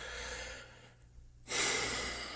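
Heavy breathing close to the microphone: a long exhale, a short pause of near silence, then a loud sharp inhale.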